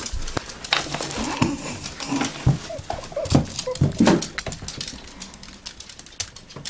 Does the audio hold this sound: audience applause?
no